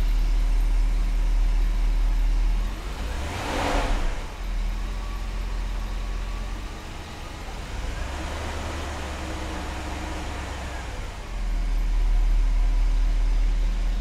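A Mercedes engine idles on newly fitted motor mounts, a steady low rumble heard close and continuous for the whole stretch with no talk.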